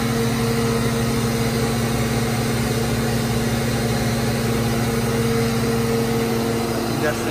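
Mazak FF 510 horizontal machining center spindle running at 8,000 RPM, a steady loud continuous hum with a constant whine, unchanging throughout, with a voice faintly beneath.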